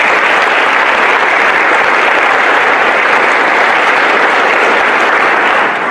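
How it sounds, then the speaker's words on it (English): A large audience at a university athletics press event breaks into sustained, dense applause, loud and steady throughout with no talk on top. "Can we give them a round of applause?"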